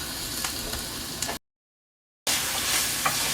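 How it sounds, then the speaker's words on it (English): Ground Italian sausage browning in a cast iron pan, giving a steady close sizzle and crackle that cuts out briefly to silence before resuming just as strongly. "I'm going to go ahead and get this Italian sausage browned up and ground"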